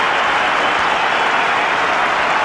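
Cricket spectators at an India versus Pakistan one-day international applaud VVS Laxman reaching his fifty, a dense, loud, continuous wash of clapping from a large crowd with no break.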